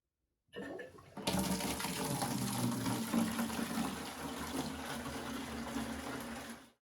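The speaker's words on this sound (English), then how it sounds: "we are going to fill it about halfway with cold water, not hot water, cold water" Steady rushing cold water pours into a plastic bucket, a continuous broadband splash that starts abruptly and holds at a constant level for several seconds.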